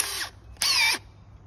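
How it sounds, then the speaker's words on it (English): A Makita hammer drill on its hammer setting, readied for setting slab anchor bolts, whirs loudly in two short bursts, a brief one and then a slightly longer one, close by with a quiet pause between. "this right here is what you call a hammer drill, a Makita hammer drill"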